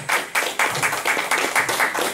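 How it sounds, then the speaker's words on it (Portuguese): Church congregation clapping in praise during a worship service, a dense burst of many hands that swells into rhythmic waves of loud claps with no voices over it. "Dá uma salva de palmas ao Senhor"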